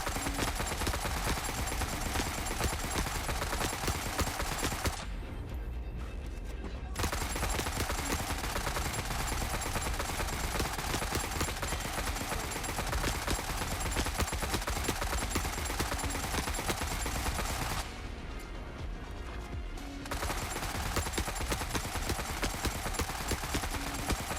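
Sustained AK rifle fire pours into an Exo in a video game, a dense continuous automatic burst broken by two short pauses before resuming at full loudness.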